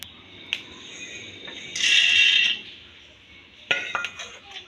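Black peppercorns dry roasting in a pan for homemade chaat masala, heard as light metallic clinks and taps of utensil on pan, with a short bright hissing sizzle in the middle, close and fairly quiet.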